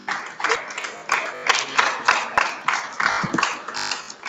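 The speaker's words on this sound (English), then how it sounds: "Please, let's clap for them" A crowd applauds for a university librarian at an entrepreneurship week event, with steady, close clapping from many hands that swells and eases in waves across the whole span.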